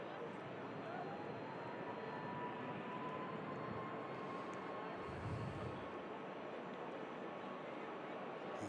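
Ryanair Boeing 737 MAX 8200 on its takeoff roll at Manchester Airport, a steady distant engine roar that holds evenly throughout, with talk over it.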